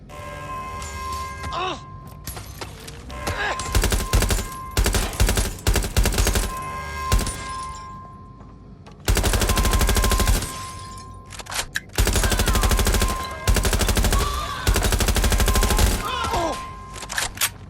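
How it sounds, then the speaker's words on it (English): Heavy gunfire in the Watch Dogs Legion game during a lab security alarm, long bursts of automatic fire and single shots, loud and close, with stretches of quieter gaps and faint game voices. "Suspect is shooting!"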